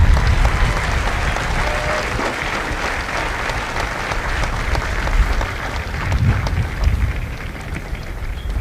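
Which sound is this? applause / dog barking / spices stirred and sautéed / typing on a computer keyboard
applause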